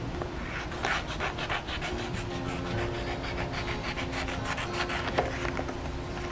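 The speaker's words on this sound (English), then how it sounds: "You're going to cut them out." Scissors cutting circles out of a folded greeting card, with a continuous close rubbing, rasping snip sound repeating in quick rhythm throughout, no talking.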